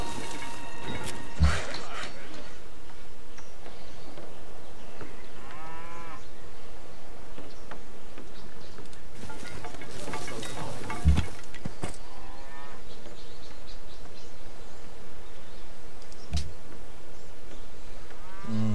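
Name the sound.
cows mooing in the video game Civilization V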